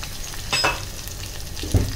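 Garlic fries in a pan while being stirred, for a Malvani green curry of Bombay duck: a close, continuous sizzle broken by a couple of brief scraping stirs, the louder one near the end.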